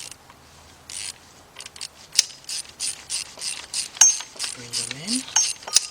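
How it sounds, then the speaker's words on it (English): A 1/4 inch drive ratchet with a 10mm deep socket tightens head bolts on a Nissan Rogue, Altima or Sentra engine during a head gasket replacement, giving close, rapid bursts of clicking pawl strokes in a quiet workshop. "take your 10mm deep 1/4 inch drive with your 1/4 inch drive ratchet"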